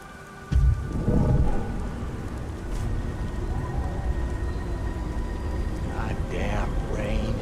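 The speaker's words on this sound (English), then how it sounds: "Goddamn rain." Steady rain hisses throughout, with a low rumble of thunder near the start and faint background sounds later on.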